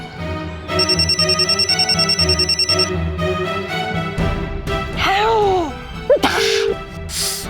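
A telephone bell rings in a rapid repeating trill for a couple of seconds, followed by a short musical sting and dramatic sound effects.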